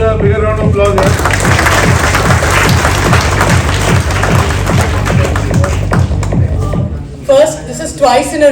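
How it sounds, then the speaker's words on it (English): Audience at a journalism awards ceremony bursts into loud, sustained clapping for several seconds, then the applause fades out and a voice speaks over the room. "Give Pooja a bigger round of applause"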